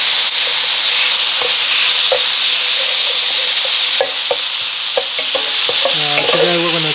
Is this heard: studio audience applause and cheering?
no